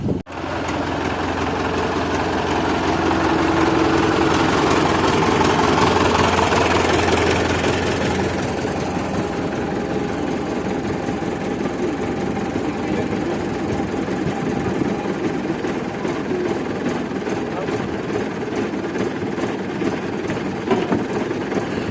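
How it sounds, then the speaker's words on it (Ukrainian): A tractor engine runs loud and close for the whole stretch while a plough is adjusted outdoors, a steady knocking rumble that shifts to a rougher idle partway through. "Що це там щось хлопці трактором трендичать трактором?"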